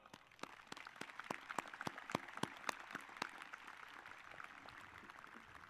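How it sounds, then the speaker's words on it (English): Scattered claps and applause from a high school graduation ceremony crowd, with sharp individual hand claps standing out at first before settling into a steady, moderate wash. "Let's give them a round of applause."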